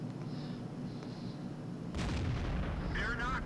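Tank cannon from a Hellcat tank destroyer in a platoon tank video game: a single heavy, booming shot bursts in mid-clip after a quiet engine rumble, loud and close, with a brief tonal game sound trailing after.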